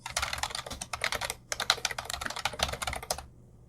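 Fast, steady typing of Python code on a computer keyboard, dense clusters of close, crisp key clicks in bursts with a brief pause near the middle and silence at the end.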